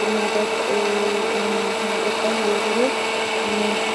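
A kitchen mixer grinder runs with soaked peas in its jar, grinding them to a paste. It gives a steady, loud motor whine with a wavering pitch, while a voice speaks briefly over it.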